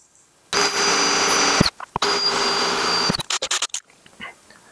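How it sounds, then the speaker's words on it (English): A power drill with a 7/64 drill bit pre-drills a hole for a number 8 screw while attaching a 3D printed mount to a Coro prop. Two sustained, close whirring bursts are followed by several short stuttering trigger pulses. "to pre-drill, I like using a 7/64 drill bit"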